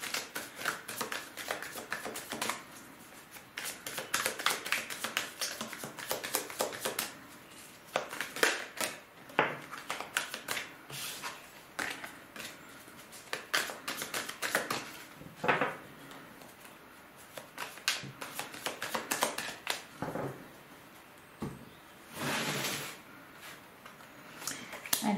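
Tarot cards are shuffled and drawn by hand, with continuous close papery riffling and slapping that rises and falls in bursts over about twenty-five seconds.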